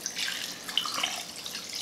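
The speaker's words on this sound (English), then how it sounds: "Pour your sweet tea" Sweet tea poured from a container over arranged pieces of fried chicken in a pan, a soft, steady liquid splash and trickle with a few brighter drips, close and fairly quiet, with no talking.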